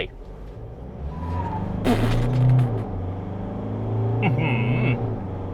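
Isuzu D-Max Hi-Lander pickup with a 3.0 litre diesel engine accelerating hard on the road, a steady engine drone rising in pitch with a brief tire chirp, while someone talks over it.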